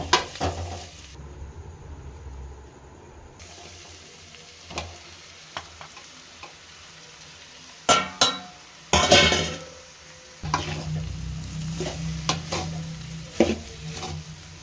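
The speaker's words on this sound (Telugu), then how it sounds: "ఇప్పుడు మనము ముందుగా వంచి పెట్టుకున్న ప్యాన్ కింద ఆరబెట్టుకున్న రైస్ని ఇప్పుడు వేసుకుందాము" Veg fried rice being stirred in a pan, steady sizzling of frying with scraping and clinks of a utensil against the pan, louder scraping strokes coming in irregular bursts.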